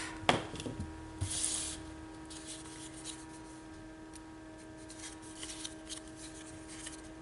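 Scissors snip tape off paper in a few quick, crisp cuts near the start, followed by soft rustling and handling noises against a faint steady hum.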